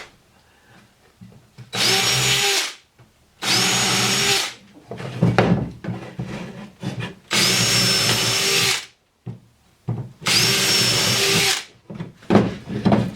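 A power drill drives screws into wood while a soil sifter for seed starting is built, four loud sustained bursts of whirring, each a second or two long, separated by brief pauses with handling clatter in between.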